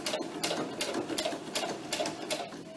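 Sewing machine stitching vinyl sheets for a doll bustier, running in quick rhythmic bursts of rapid needle clatter with brief pauses between runs, close and steady.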